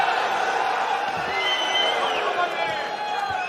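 Arena crowd cheering and roaring throughout a Glory 100 kickboxing fight, a dense, steady wall of voices with whoops and shouts rising and falling, loud and continuous under the commentary.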